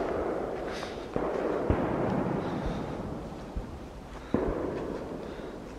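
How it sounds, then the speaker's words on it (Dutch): Fireworks crackle and pop all around during a walk through a wooded plantation, with scattered sharp bangs standing out over a continuous rumbling din of distant and nearby explosions. "Overal hoor je vuurwerk."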